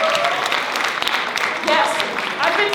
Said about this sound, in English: I want us to give a round of applause to Stacey Ann Buchanan.